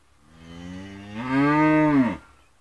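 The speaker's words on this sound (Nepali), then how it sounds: "कराइरहेको गाई हो यो" A cow on a Nepali farm gives a single long moo, starting low and swelling louder halfway through before cutting off, close and clear with no talk over it.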